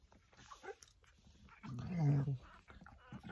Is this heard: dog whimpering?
yes